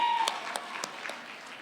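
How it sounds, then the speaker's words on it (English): Wedding guests clapping during the speeches at Kavindu and Nethma's reception, a brief burst of broadband applause with a few louder claps standing out, steady for a moment and then easing off. "Can I have a big round of applause?"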